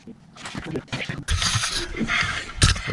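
A wrench turns as pedals are fitted onto a VanMoof S3 electric bicycle, giving close mechanical ratcheting clicks and metal scrapes with irregular rhythm.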